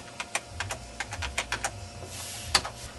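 Someone types a password on a computer keyboard during an Ubuntu login, giving a quick run of about a dozen light, close key clicks with one louder final keystroke, and no voice.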